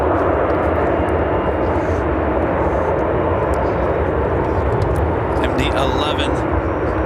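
United Airlines Boeing 737 MAX 9 arriving at Chicago O'Hare from Denver, a steady broadband jet roar filling the whole stretch, loud and continuous, with a voice talking over it near the end.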